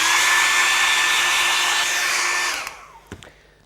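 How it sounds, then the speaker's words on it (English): A hair dryer blows loudly and steadily with a whining hiss, then winds down and switches off near the end, followed by a couple of small clicks. "just take my hair dryer and dry it off."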